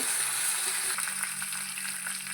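Garlic, dried red chilli and curry leaves crackling in hot oil for a dal tempering, a steady close hiss with light pops throughout.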